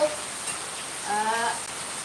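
Rain hisses steadily in the background while a voice briefly sounds in the middle.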